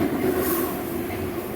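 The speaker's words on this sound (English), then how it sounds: "Hang on, train, you have to wait your turn." A BNSF freight train rumbles past nearby on the Southern Transcon line between Needles, California and Winslow, Arizona, a steady low roar with faint wheel noise and no talking.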